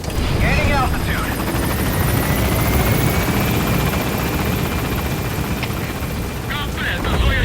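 A helicopter gains altitude in Metal Gear Solid V, its loud, dense rotor roar filling the scene continuously and close-up, with faint radio-style voices briefly over it.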